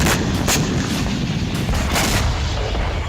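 Booms from Russian drone and artillery strikes on Ukrainian positions during the war, dense continuous blasts and rumbling with several sharper impacts, loud and unbroken throughout with no voices.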